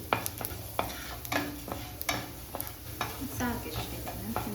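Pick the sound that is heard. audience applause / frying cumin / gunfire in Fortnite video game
frying cumin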